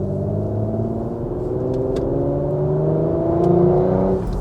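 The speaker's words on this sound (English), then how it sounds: "I love that kind of high gear, low speed V6 rumble as you come out." A Porsche Macan GTS V6 pulling away in high gear at low speed gives a loud, close, steady rumble from inside the car, its engine note climbing slowly as it gathers pace, with no talking.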